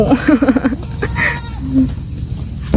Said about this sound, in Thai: ก็คือได้ยินเสียงย่นนะทุกคนนี่